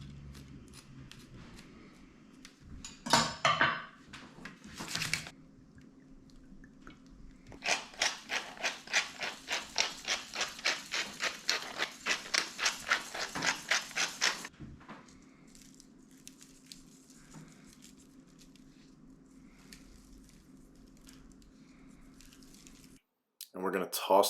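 A kitchen knife slices through a jalapeño pepper on a cutting board, giving a run of quick, close rhythmic cutting taps and crunches, with quieter handling noises before and after.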